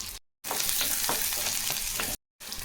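Cardamom, cinnamon and small shallots fry in hot oil for a roadside-style salna, a close, dense sizzle with light stirring scrapes, broken by two abrupt silent gaps.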